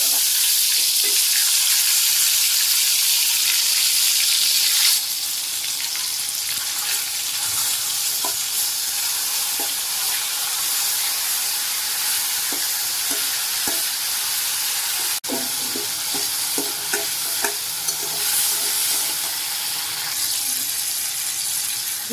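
Tomatoes sizzling in a pan for dalma, with bay leaf and tempering, a loud continuous hiss broken by scraping stirring strokes, close up and steady.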